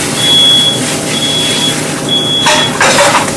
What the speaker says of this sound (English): There goes the fire alarm again.